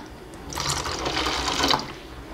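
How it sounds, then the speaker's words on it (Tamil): Water pours into a container while making aloe vera soap at home, a bright splashing rush for about a second and a half that swells and then fades, heard close with no voices. "அடுத்ததாக தண்ணி சேர்த்துக்கலாம்."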